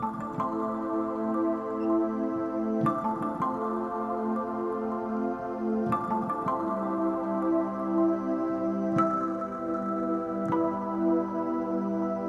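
Marimba and pluck synth sounds layered with sustained pads on a keyboard, chords changing every few seconds with plucked attacks over a continuous warm pad, steady and unaccompanied by talk.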